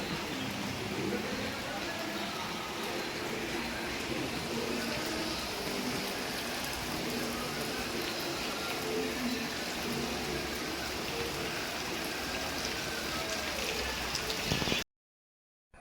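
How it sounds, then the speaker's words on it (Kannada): Heavy rain pours down in a dense, continuous hiss, steady throughout, then cuts off abruptly at the end. "ತುಂಬ ಜೋರು ಮಳೆ ಬರ್ತಾ ಉಂಟು ಹೊರಗಡೆ"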